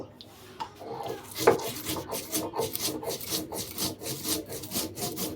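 Lightly fried black cumin, chanda dried fish and salt are ground by hand in quick, rhythmic rasping strokes, a close scraping that repeats steadily and fairly softly.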